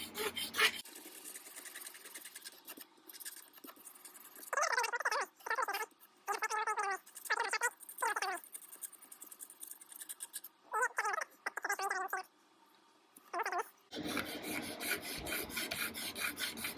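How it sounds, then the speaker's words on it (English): Frets on a 1969 Italian Eko guitar are scraped in short, rhythmic rasping strokes, coming in bursts separated by quiet pauses, close and fairly faint, with some broader rustling at the start and end. "the rest of the frets I'm going to scrape too"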